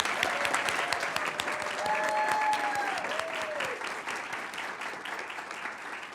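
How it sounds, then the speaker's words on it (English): An audience at a school board of education meeting applauds the Middle School Teacher of the Year, with steady, sustained clapping from many hands filling the room for several seconds and a faint voice briefly in the background. "Let's give her a round of applause."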